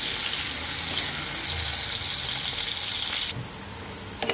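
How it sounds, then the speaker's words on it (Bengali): Boiled potatoes frying in hot oil, a steady close sizzling hiss that suddenly drops to a quieter crackle near the end, with no talking. "এখন আমি ভেজে নেব আলুটাকে আমি কয়েক মিনিট"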